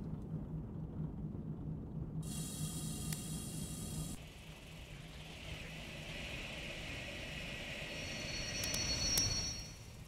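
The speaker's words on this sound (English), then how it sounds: "Ooh, there's another train!" Another train passing in Diesel Railcar Simulator, a low steady rumble with a rising hiss that builds toward the end, heard from the cab of the moving railcar with no talk.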